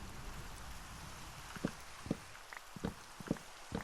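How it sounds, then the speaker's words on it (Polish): Steady rain hiss falls across the Minecraft world, a soft continuous wash with a handful of brief, sharper drip-like taps in the second half, faint and with no voices. "Ciągle pada na tym świecie."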